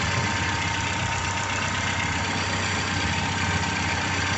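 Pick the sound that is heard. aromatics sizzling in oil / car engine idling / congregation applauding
car engine idling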